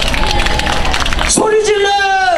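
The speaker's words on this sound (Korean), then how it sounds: "박수 함성" Audience clapping and cheers at a Korean singing contest as a guest singer is introduced, a busy patter of hands under crowd noise, followed by a sustained musical tone rising from the stage.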